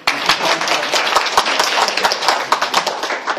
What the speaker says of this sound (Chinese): 鼓掌，大家一起鼓掌。